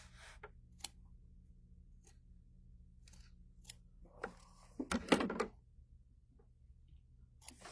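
Scissors trim pieces of fabric in a few scattered quiet snips and clicks close by, with a low steady hum underneath and a short louder burst of cutting near the end.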